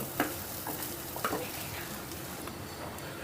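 Cabbage curry being stirred in a pan after a pinch of kasuri methi is added, with a soft steady sizzle, a couple of distinct spoon scrapes near the start, and quieter stirring after, no talking.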